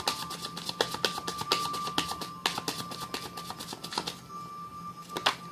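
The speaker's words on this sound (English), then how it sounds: "Just giving it a thorough shuffle" Tarot cards riffled and shuffled by hand in quick, rapid bursts of crisp slapping clicks, close and fairly quiet, with short pauses between bursts.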